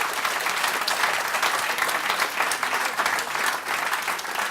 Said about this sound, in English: Do give them another round of applause